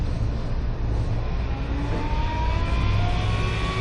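An Amazon delivery van rumbles past at moderate distance, its engine drone steady and broad with a slight rising whine, no voices present.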